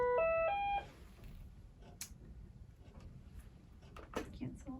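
A short burst of electronic beeps in a rising-falling tone pattern from a Braun infusion pump alarm, then quieter room noise with faint clicks and brief voices.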